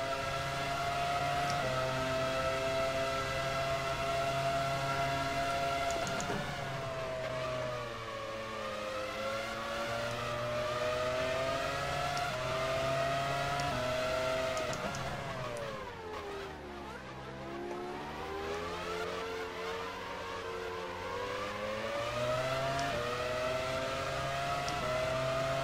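Simulated F1 race cars from the video game F1 Challenge 99-02 scream off the start at Silverstone, a high, whining engine note rising through gear changes, dipping sharply mid-run and climbing again, with several cars buzzing together.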